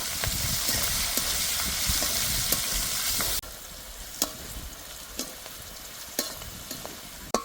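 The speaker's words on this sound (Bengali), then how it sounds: "আর দিয়ে দেবো হলুদ গুঁড়ো। এবার ভালো করে ভেজে নেব।" Spices with turmeric powder fry in a pan with a loud continuous sizzle that drops to a quieter hiss midway, with occasional scraping stirs of a spatula close by and no talking.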